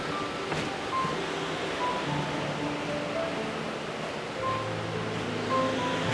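Steady, broad rushing water of a waterfall over a river roars throughout, heard from a dark tunnel beneath it, a constant wash of falling water close by with no voices.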